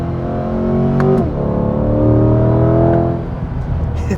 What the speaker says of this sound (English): We can use these shifter paddles that are wheel mounted and they do a fantastic job. They're very snappy, as you can hear.